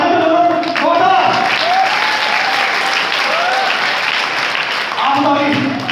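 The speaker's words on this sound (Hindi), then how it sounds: "ताली बजाओ जोरदार" A crowd at a sales meeting bursts into loud, continuous clapping that holds steady for several seconds, with voices faintly mixed into the applause.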